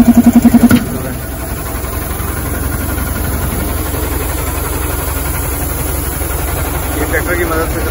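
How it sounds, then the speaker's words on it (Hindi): An air compressor driven by a tractor runs at a bridge construction site near the Yamuna, a steady mid-pitched engine drone with a brief rhythmic knocking at the start, close and continuous. "ये यहाँ पर कंप्रेसर चल रहा है"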